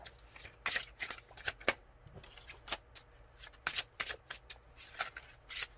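Tarot cards are shuffled by hand in irregular bursts of crisp riffling and flicking, close and fairly quiet, with short pauses between the shuffles and no talking.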